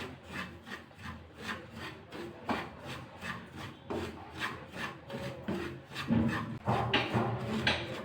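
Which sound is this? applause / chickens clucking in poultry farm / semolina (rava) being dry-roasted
semolina (rava) being dry-roasted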